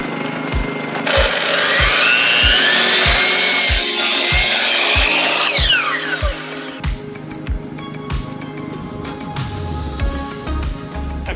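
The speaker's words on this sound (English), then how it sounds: "Just trimming up this really old piece of plywood." A power saw cuts through an old piece of plywood at an off-grid build site. A loud, steady whining cut runs for several seconds, then eases off, while a generator thuds regularly underneath.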